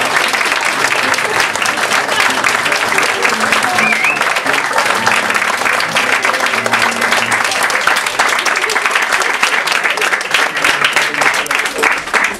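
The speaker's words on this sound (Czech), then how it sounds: "Dámy a pánové, pojďme pozvat hráče, přivítejme obrovským potleskem." Loud, sustained applause from a large audience welcoming players onto the stage at an evening event, continuous dense clapping with crowd noise filling the whole stretch.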